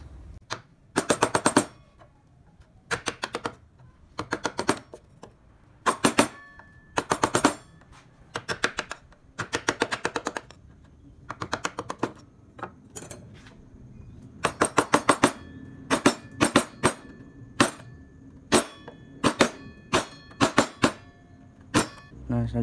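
A gouge chisel cuts into wood during hand carving, producing clusters of sharp tapping strikes in irregular bursts with short pauses between, close and crisp, with no voices.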